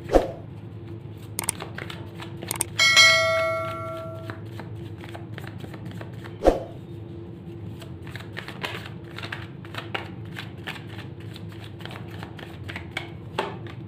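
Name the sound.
shuffling tarot cards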